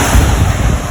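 Rough ocean surf at a beach, a steady roar of breaking waves with gusting wind buffeting the microphone, loud and continuous with no talk.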